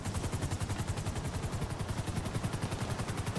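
Rapid automatic gunfire rattles in a steady stream of evenly spaced shots during a GTA V heist shootout, loud and sustained, with no voices over it.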